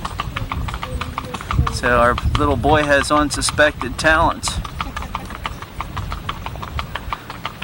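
Steady clip-clop of horse hooves pulling an Amish-built carriage made in Indiana, a brisk even rhythm on pavement, close and continuous, with people talking over it.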